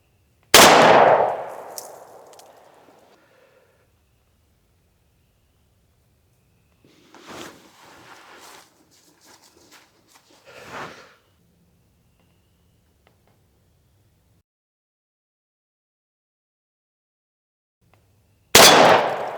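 Bulldog .44 Special revolver fired outdoors, one sharp loud report at the start and another at the end, with faint clatter and handling noises in the quiet stretch between.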